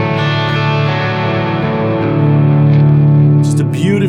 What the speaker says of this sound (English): Just a beautifully droning chord that you can't play in E standard.